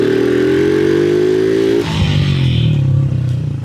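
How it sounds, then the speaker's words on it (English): A motorcycle engine, its air filter opened up, pulls hard at full throttle in third gear, its note rising loud and close, then dipping briefly at a shift before droning on. "This bike sounds amazing. Third gear pull, by the way."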